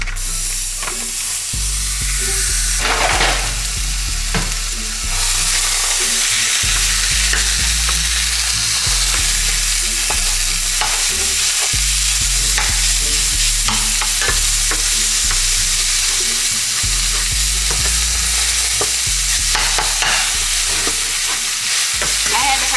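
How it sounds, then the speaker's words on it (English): Fake meat fries in a skillet over high heat, a loud, steady sizzle with repeated scraping and stirring strokes of a utensil against the pan, heard close up throughout. "Now I'm just gonna put the meat in this skillet."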